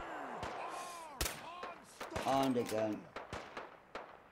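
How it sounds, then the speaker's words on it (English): Gunfire in Fallout 4: several sharp, loud shots scattered irregularly across a firefight, mixed with someone talking over the action. "Look at bullets flying all over. Where is he firing from?"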